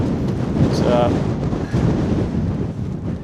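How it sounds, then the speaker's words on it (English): Strong wind on a hilltop roars and buffets the microphone continuously, a loud low rumble, with a person briefly speaking. "it's kind of too windy at the top"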